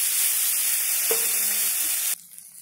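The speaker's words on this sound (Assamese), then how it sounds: "কেৰাহী পুৰা গৰম হৈ গ'লে পিঁয়াজখিনি দি দিছোঁ" Onions sizzle and fry steadily in a very hot kadai, a loud continuous hiss that suddenly drops to a quieter crackle near the end.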